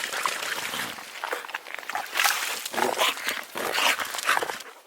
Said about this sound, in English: So you got 3 dogs out today, Frenchie, BamBoo and Oslo.